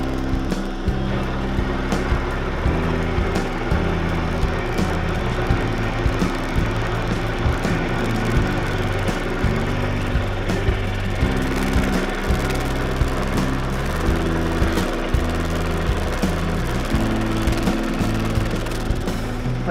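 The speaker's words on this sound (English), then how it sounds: "I'm also using a carbide end mill, which will help take the heat of the cut better" Steel milled with a carbide end mill on a machine for a Willys CJ2A Jeep alternator bracket: a continuous loud mechanical drone with steady motor hum and faint regular ticks of the cutter, unbroken throughout.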